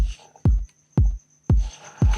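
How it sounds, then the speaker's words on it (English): Four punchy deep house kick drum sample hits at an even pace, deep and booming with quick decay, playing alone. "you have a kick, which is very simple, goes like this"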